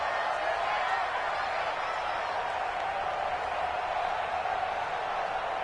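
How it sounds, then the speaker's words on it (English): A stadium crowd in an American football video game, Raiders versus Chargers, roars in a steady, dense wash of cheering that holds throughout at fairly high level, with a faint voice mixed in. "the crowd getting into it as we come up on a big 3rd down"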